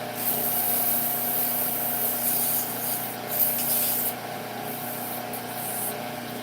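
Sanding a small cherry wood bowl on a lathe gives a steady, close hissing rub that runs continuously, with slight shifts in pressure partway through.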